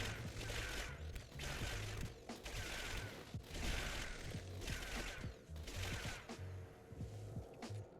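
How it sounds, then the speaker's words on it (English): The Pepper Shaker gun fires in Fallout 76, a loud burst of rattling, mechanical shots repeating about every second in an even rhythm, with no voices. "we're going to be firing our Pepper Shaker every few seconds to keep Bullet Shield active"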